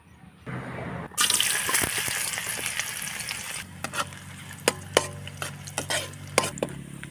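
Aromatics (ricado) hit hot cooking oil for adobo with a loud burst of sizzling frying, then settle into steady crackle with intermittent stirring clatter and scrapes near the pan.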